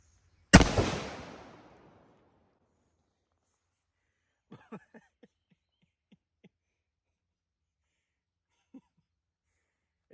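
A single loud, close blast from the right barrel of a 12 gauge AGC Desperado 11-inch double barrel shotgun fired outdoors, its crack ringing off into a decaying echo, followed by faint scattered knocks and handling sounds.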